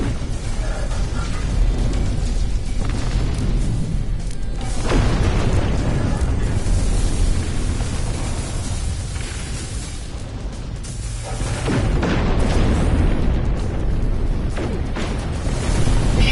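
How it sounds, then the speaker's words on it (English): Cannon fire and explosions from a ship battle in No Man's Sky, dense rumbling booms and bursts layered over continuous loud game noise, with a few sharper blasts standing out. "two shots with your cannon."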